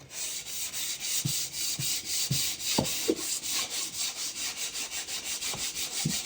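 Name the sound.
sanding wooden window seal with sandpaper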